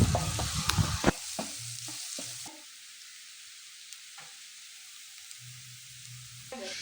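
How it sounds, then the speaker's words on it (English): Onions frying in oil in a pan give a loud sizzle and stirring at first, which then settle into a quieter, steady crackle with occasional soft clinks. "I'm going in with my onions and I'm going to cook them until they become"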